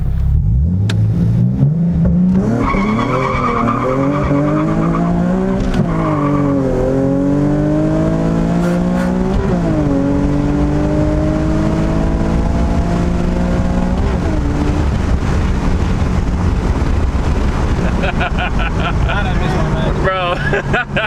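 A Nissan 370Z with a swapped-in Q60 engine launches hard and revs, its engine note climbing and dropping through repeated rising sweeps, loud and close from start to finish, with people talking over it.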